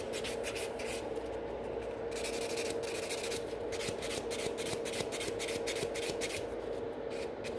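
Gel nails on almond-shaped tips with glitter are buffed by a nail file to blend out a glitter particle, giving steady close scratchy rubbing strokes in a quick repeated rhythm, without talk.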